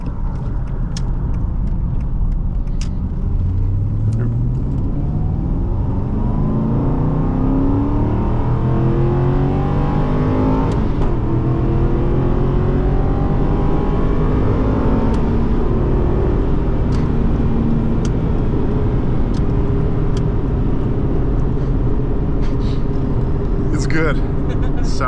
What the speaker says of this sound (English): No, the car, it definitely sounds amazing.